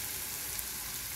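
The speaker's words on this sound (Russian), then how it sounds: "Выкладываем лук на сковородку и немножко притомим его с маслом." Steady crackling sizzle of onions frying in butter in a pan, continuous and close, with no other sounds.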